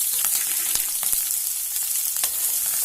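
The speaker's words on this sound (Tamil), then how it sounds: "கொஞ்சம் வதக்கி விடுவோம் வெங்காயம் ஒரு பாதி அளவு வதங்கட்டும்" Onion sautéing in a pan with curry leaves and dried chilli for a ridge gourd egg fry, a dense constant sizzle with sharp spatula clicks and scrapes, close up.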